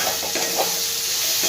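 Fried coconut, cashews and raisins are stirred into sweet-shop style chana dal in a hot pan, giving a loud, dense, continuous sizzle close up with faint stirring scrapes.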